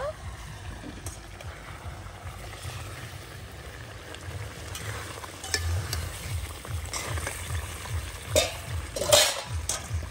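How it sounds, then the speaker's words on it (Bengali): Meat curry frying in a pot at a home picnic is stirred with a utensil, giving soft intermittent scraping and light sizzle, fairly quiet and close, with a few sharper clinks toward the end. "এবার ঢাকনাটা তুলে একটু নেড়ে দেব।"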